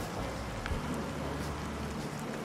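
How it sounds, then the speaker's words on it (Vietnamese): Heavy rain pours steadily at the Angkor Wat temple complex in Cambodia, a dense continuous hiss of drops close by, with no clear thunder standing out over it. "mưa thì to mà có sấm chớp nữa"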